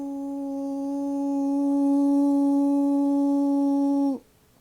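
A loud, pure resonant tone rings from the air column in a water-filled glass burette tube, holding steady for about four seconds with clear overtones before cutting off abruptly.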